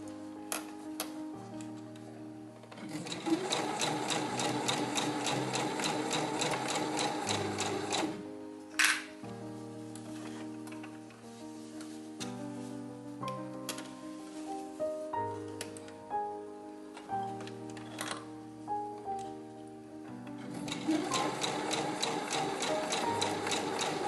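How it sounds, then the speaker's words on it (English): A sewing machine stitching a princess-line pinafore at slow speed, its rapid mechanical ticking starting and stopping in several bursts with short pauses between, close and clear. "While sewing, I'll go very slow."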